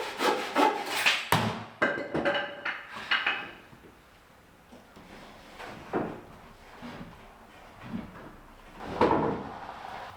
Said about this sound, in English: I can then trim off the excess that's sticking out through the transom for the aft end of the Keelson